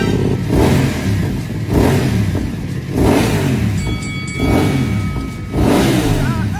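A 2023 BMW F750 GS motorcycle engine revs repeatedly, with loud, close throttle blips that rise and fall in a steady rhythm about once a second.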